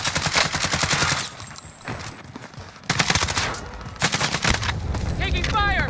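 Gunfire rattles through a Call of Duty Warzone match in dense automatic bursts with brief gaps, loud and close, mixed with in-game voice callouts and other game sounds.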